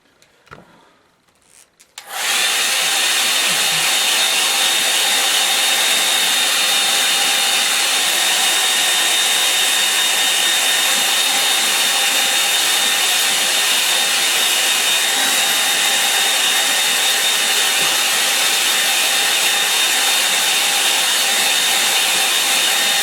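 Hair dryer blowing on a simple watercolour landscape painting, starting suddenly after a brief quiet rustle and then roaring loud and constant at close range for the rest of the stretch, with no speech.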